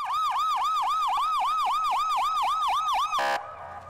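A loud, close ambulance siren wails in a steady rapid up-and-down cycle, repeating about a dozen times before cutting off, leaving faint road noise behind.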